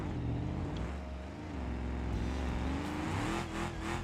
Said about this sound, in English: You can hear the supercharger on this